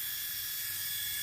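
An infrared induction toy helicopter's rotor spins with a steady, close, high-pitched whirring buzz that holds at an even level throughout, with no talking.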